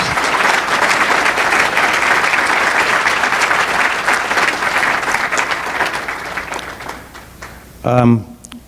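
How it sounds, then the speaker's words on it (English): A speakers' forum audience gives panel speakers a sustained round of applause that fades toward the end, followed by a short burst of speech. "Let's give them a big round of applause."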